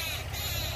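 Several birds caw and chatter outdoors on a rainy-season day, a steady distant din over low background hum, no talking.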